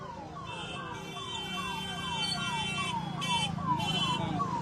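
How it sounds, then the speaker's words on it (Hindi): An ambulance siren wails in repeated falling sweeps, a steady rhythmic cycle of about ten tones with a high electronic buzz above, moderately loud against street background noise with no talk. "यहाँ एम्बुलेंस आपको दिख रहा है"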